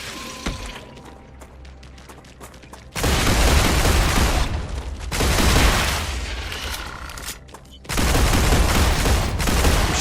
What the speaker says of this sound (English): I'm shooting a bit high there.